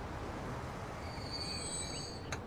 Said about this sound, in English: Oh, there's the other train that I was after,